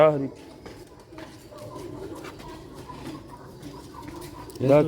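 Soft, throaty pigeon coos from rooftop pigeons in Sialkot bubble up at the start and again near the end, with quieter rustling and faint background noise in between.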